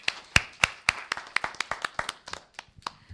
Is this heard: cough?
no